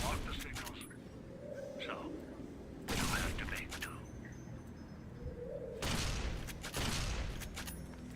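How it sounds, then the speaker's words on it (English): Rifle fire in Fallout: New Vegas (Dead Money) as a hollow-point rifle shoots a computer: two sharp, loud bursts of gunfire several seconds apart over a low game-ambience bed. "So we're going to go hollow rifle. We're going to shoot that computer."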